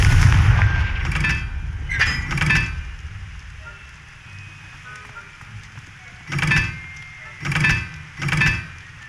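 Explosive Confringo spell blasts in the game Hogwarts Legacy, a series of booming bursts, two early and three later, with a faint tonal game ambience between them.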